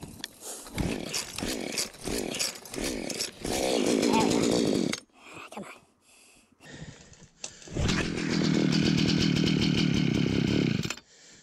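Small gas-powered ice auger engine on a frozen pond, buzzing loud and steady in two long runs with a brief sputtering gap between, with rough pull-start bursts and a voice beforehand.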